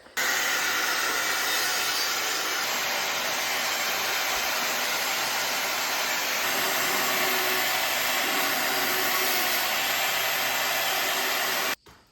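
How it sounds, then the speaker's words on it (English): An angle grinder runs steadily on a disc harrow under repair, a loud close continuous whine with a hissing edge for nearly the whole stretch before cutting off abruptly at the end. "when I'm using the grinder"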